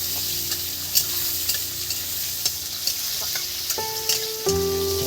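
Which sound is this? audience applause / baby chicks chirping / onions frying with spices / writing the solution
onions frying with spices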